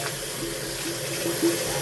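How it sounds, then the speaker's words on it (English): Hot water runs steadily from a household tap fed by a Navien water heater, a continuous close splashing flow without talking. "this water's pumping pure hot"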